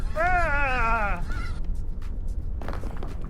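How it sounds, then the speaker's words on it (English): Fowl calls from chickens in the video game PEAK, a honking, clucking cry at the start followed by fainter squawks over a steady low background. "Look at all those chickens!"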